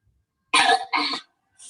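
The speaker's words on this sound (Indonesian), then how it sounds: "Miss, aku batuk." A child coughs twice in quick succession, close and fairly loud, followed by a brief faint cough after a pause, heard during an online primary school physical education class.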